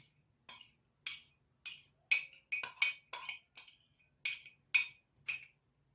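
A spoon stirs cream, yogurt and ghee together in a bowl, making a series of about a dozen crisp, bright clinks against the bowl. The clinks come in an uneven rhythm with short quiet gaps between them.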